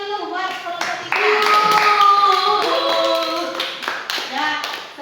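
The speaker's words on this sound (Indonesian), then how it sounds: "Tepuk tangan dulu buat kelompok 3." An Indonesian classroom group claps together in a steady burst of applause for a discussion group, with children's voices and a melodic tone ringing over it.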